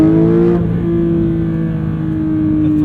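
A Porsche 992 911 GT3 with manual gearbox revving under throttle: a loud, close, steady high-pitched engine howl that briefly dips, then holds a smooth sustained note.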